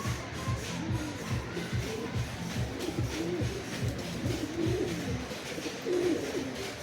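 Crossbred pigeons, a mix of several breeds, cooing in soft repeated low calls close by, with shuffling and wing movement among the birds and no voices.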